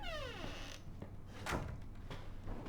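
A door swings open in Resident Evil 7, with a drawn-out creak at the start followed by a louder thud, then soft knocks and room ambience, all heard quietly and without talk.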